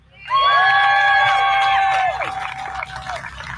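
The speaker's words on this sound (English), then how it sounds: "Let's give a big round of applause for Dimitri." A rally crowd cheers and whoops loudly for a speaker, with a sudden swell of shouting voices and whistles that stays strong, then eases into scattered cheering and clapping.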